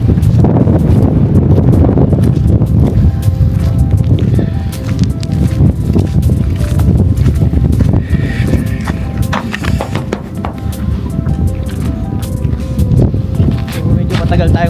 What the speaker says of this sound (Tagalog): Pero mahangin, malamig.